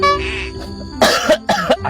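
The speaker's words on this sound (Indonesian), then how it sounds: "Boleh saya batuk?" Several sharp coughs from a person, first a softer throat sound and then two loud, close bursts in quick succession, with no talking.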